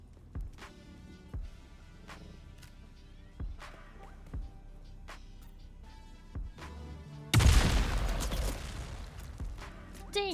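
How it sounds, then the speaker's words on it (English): Gunfire from NPC enemies in the video game Dune Awakening, a run of sharp, spaced shots over game ambience, then a sudden loud burst of blasts and rumble near the end. "Dang, they had time to shoot back"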